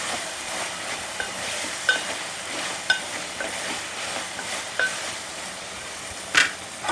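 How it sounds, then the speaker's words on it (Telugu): Tomatoes fry in a pan under a constant, fairly loud hiss, with a few light scattered clicks and scrapes of stirring and one louder scrape near the end, heard close with no voices. "ఒకసారి వేపాక మనం మనం టమాటాలు కూడా వేసేసుకున్నాం"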